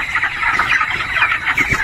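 Chickens on a poultry farm cluck busily in a dense, continuous flock chatter, with several birds calling over one another at close range and no speech.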